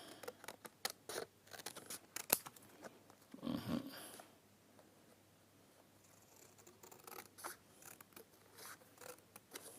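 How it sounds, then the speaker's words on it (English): Scissors snip through paper, cutting out a traced windmill shape; faint, scattered cuts with a brief louder rustle midway, in a quiet room. "we need to trace this and then we cut it off."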